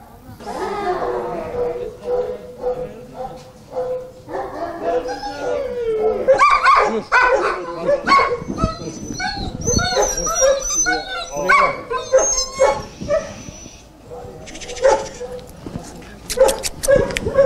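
Several shelter dogs bark, yip and whimper excitedly, close and loud, with overlapping calls and a person's voice mixed in.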